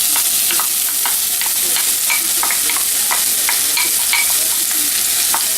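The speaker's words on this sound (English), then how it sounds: "You can see the onion in there starting to cook, starting to dance around, look like it's starting to fry a little bit." Chopped onions fry in a pan over medium-low heat with a loud, steady sizzle, while a utensil stirs them and taps out a string of light, irregular clicks.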